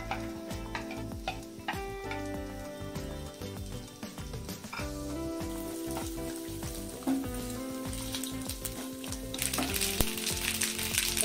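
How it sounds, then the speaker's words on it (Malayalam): Grated coconut fries in ghee in a pan, giving a dense, steady sizzle with occasional stirring clicks and scrapes up close. "ഇതിലോട്ട് തേങ്ങ ഇട്ട് വറക്കാൻ"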